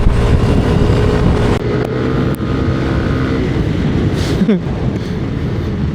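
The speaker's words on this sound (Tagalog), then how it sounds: "Ungol na ng ungol yung motor mo. Mataas nga RPM." Yamaha NMAX V3 scooter engine droning at high revs while riding toward Casiguran, Aurora in stormy weather, a loud continuous hum with wind rush and a brief dip near the end.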